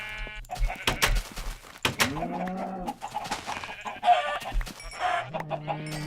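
Chickens cluck and squawk in a blocky survival video game's chicken farm, with several overlapping calls and bleat-like cries in quick succession, fairly close and continuous, alongside scattered game sound effects.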